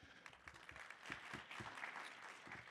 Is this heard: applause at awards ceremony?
yes